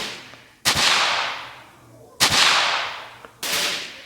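Three sharp, loud gunshots ring out at irregular intervals in the military shooter game Special Forces Group 2, each with a sudden crack followed by a lingering echoing tail.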